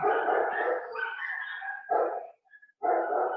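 Several dogs barking in loud, overlapping bursts, close by, with brief gaps between volleys and no talk.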